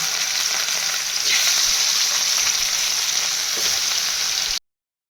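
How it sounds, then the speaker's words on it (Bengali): Katla fish pieces fry lightly in hot refined oil with salt and turmeric, giving a steady, close, hissing sizzle that runs unbroken for several seconds before cutting off abruptly. "দিয়ে মাছগুলো ভেজে নেবো।"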